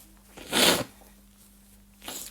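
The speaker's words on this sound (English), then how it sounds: "Trying to do a lesson, and here I just have to sneeze all of a sudden" A single sharp sneeze bursts out close to the microphone, followed after a pause by a softer sniff or breathy snort, against a quiet background hum.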